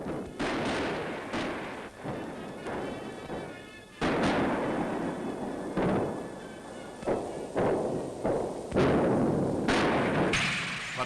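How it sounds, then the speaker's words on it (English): Artillery shelling a road near Bucine, Italy, during the 1944 advance on the Gothic Line, with repeated heavy booming blasts and thuds at an irregular pace. The sound has the muffled, grainy quality of an old wartime newsreel. "he fought back, shelling the road as we advanced"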